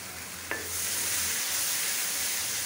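Bottle gourd greens dropped into a hot pan with spices, a brief clatter followed by a steady bright sizzle that swells and holds, close and alone.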